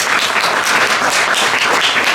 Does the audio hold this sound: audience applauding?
yes